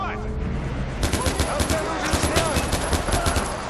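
Rapid automatic gunfire in the video game Far Cry 4, with dense bursts of shots starting about a second in and continuing steadily, loud and close, alongside other game sounds.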